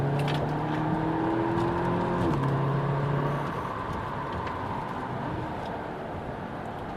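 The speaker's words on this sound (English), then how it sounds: "Let's get a little downshift action." An Audi S3 blips through a downshift on a corner, the engine note climbing in a steady rev, dropping sharply, then surging and fading into road and tyre noise as the car pulls away.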